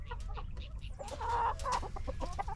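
A toy chicken clucks in a quick burst of squawky, fowl-like calls, fairly close and loud, with no talk over it.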